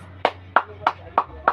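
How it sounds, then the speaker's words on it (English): A class applauds a student group after their presentation: five distinct bursts of clapping, evenly spaced about a third of a second apart, close and fairly loud over a low room hum. "Let's give them a round of applause"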